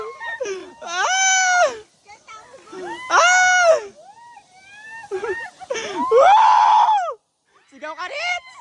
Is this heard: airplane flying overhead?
no